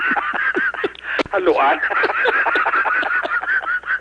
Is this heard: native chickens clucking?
yes